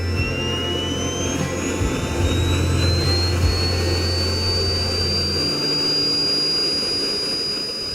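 A King Tech 80 gas-start, single-stage turbine jet engine runs on a model sports trainer plane at a miniature aircraft club, a steady loud roar with a high whine that rises slowly in pitch.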